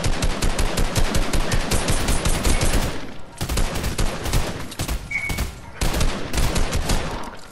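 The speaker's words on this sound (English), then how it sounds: "They're already shooting." Rapid automatic gunfire in Fortnite, loud and close, with dense repeated shots in long bursts, a brief lull partway through, then continued firing, heard alone without talk.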